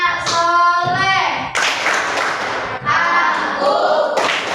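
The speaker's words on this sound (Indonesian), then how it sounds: "Tepuk anak soleh." Children in a class chant the Tepuk anak soleh rhythm together, voices singing out in unison over sharp, patterned hand claps and thuds that break into bursts between sung phrases.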